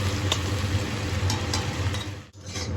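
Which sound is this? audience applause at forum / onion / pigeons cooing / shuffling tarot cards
onion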